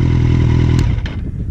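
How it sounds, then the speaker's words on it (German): A motorcycle engine idles steadily and loud, then is cut off with the kill switch, its rumble collapsing into a brief sputter and a few faint clicks as it dies away. "Wenn ich hier jetzt drücke, geht der Motor aus."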